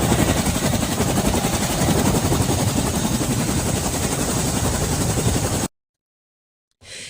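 A Chinook helicopter lands close by, its heavy rotor wash and engine roar forming a loud, steady broadband blast that cuts off abruptly, followed by near silence and a faint return of noise.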